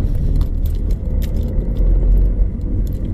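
A car pulls away with its engine rising under acceleration during a driving lesson, a low rumbling road drone up close, with faint jingling rattles from inside the cabin and no talk.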